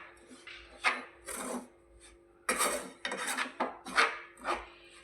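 Ground peanut powder, cardamom and ghee-roasted jowar flour being mixed by hand in a bowl, heard as close, dry rasping and rubbing strokes in irregular bursts separated by brief pauses.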